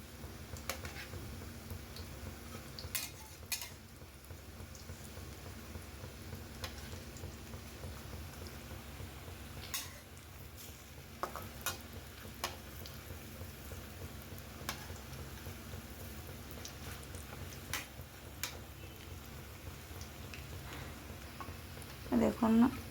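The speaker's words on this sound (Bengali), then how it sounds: "গোল গোল করে দিয়ে পকোড়াগুলো তেলের মধ্যে দিয়ে ভেজে নেব। উল্টে পাল্টে ভেজে নিতে হবে" Soybean kofta pakoras frying in a pan of hot oil, a steady soft bubbling crackle with scattered sharp ticks and pops as they are turned, and a louder clatter near the end.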